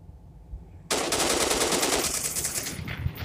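Rapid automatic gunfire in the zombie horror video game Zombie Evil Horror 4, a dense, loud burst of shots that starts abruptly after a quiet moment and rattles on continuously.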